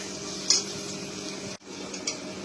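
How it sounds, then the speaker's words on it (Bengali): Tomato and spice masala frying in a pan for a chicken dish, a steady close sizzle with a couple of sharp metal clinks from a utensil and a momentary drop in the sound partway through. "অল্প অল্প করে জল অ্যাড করে ভালো করে আমাদের মশলাটাকে কষিয়ে নিতে হবে"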